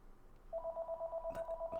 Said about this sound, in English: Why does the phone keep ringing?